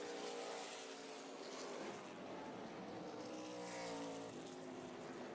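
ARCA Menards Series East race cars roar around New Smyrna Speedway, a steady, loud blend of several engines at once, with overlapping whines and pitch shifts as the cars pass down the backstretch.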